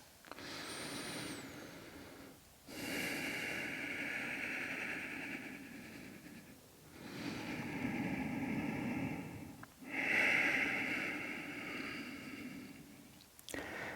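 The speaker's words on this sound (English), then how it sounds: "let's take 5 nice deep breaths" Deep, slow breathing during an intermediate vinyasa yoga flow, three or four long, airy inhale-exhale cycles, close and soft, with no talking.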